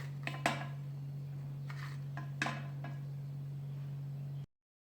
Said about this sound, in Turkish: Onları borcamıma diziyorum